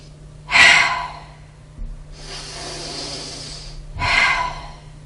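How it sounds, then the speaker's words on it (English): A singing teacher demonstrates breathing in incorrectly with shoulders rising: two loud, sharp gasping inhales separated by a longer, softer hissing breath, close to the mic with no talking. "when you're breathing in, let me show you, incorrect is like this."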